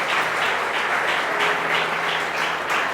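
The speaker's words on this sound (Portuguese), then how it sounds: "A igreja pode aplaudir." A church congregation applauds together, a dense, steady wash of clapping filling the room for the whole stretch, with no speech over it.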